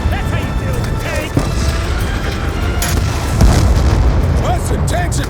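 Tank fire and explosions in Call of Duty Black Ops 2, with loud repeated booms and bursts over a dense battle din, alongside shouted radio-style voices.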